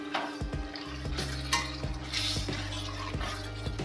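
A spoon stirs potatoes being cooked in a pan over a high gas flame, with repeated scraping and clinking strokes against the metal under a steady low sizzle and hum.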